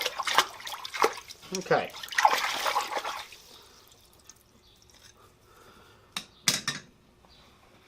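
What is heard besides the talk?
quenching hot steel chasing tool in water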